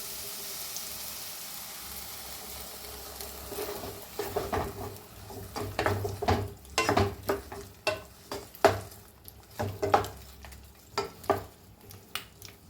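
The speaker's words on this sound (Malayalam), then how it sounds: "നമുക്കിതിലേക്ക് ശർക്കരപ്പാനി ചേർത്ത് കൊടുക്കാം" Jaggery syrup is stirred into a pan of cooking jackfruit for Kerala payasam, giving a quiet simmering hiss and then a run of repeated wet spoon scrapes and clinks against the vessel, fairly close and with no talk.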